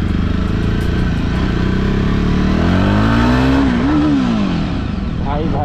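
A Jawa Bobber 42 motorcycle exhaust idles with a loud, close, throbbing rumble, then revs up in a rising and falling sweep before settling back, with no talking.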